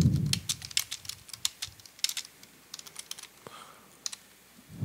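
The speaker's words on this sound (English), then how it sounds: "So while on the index page, you type the words." Someone types on a computer keyboard in quick, uneven bursts of close, crisp key clicks with brief pauses in between and no talking.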